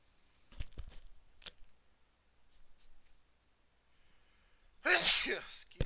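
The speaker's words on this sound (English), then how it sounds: "Sneeze my brains out." A single loud, close sneeze bursts out near the end, after a few soft handling noises and quiet breaths.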